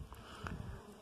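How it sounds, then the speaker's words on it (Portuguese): Honey bees buzz while pollinating flowers outdoors, a soft, steady droning hum from insects nearby over faint background noise. "Aí estão as abelhas fazendo o seu trabalho incansável de polinização"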